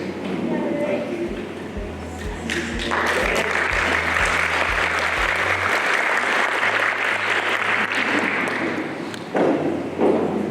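Several thumps and a low hum come first, then a crowd at a Relay survivor dinner breaks into sustained applause that holds steady for several seconds before dropping off.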